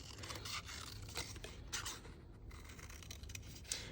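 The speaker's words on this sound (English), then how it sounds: "Let's cut away some of that extra cardstock." Small scissors snip through cardstock in a series of quiet, crisp cuts with short pauses between them, close by and soft.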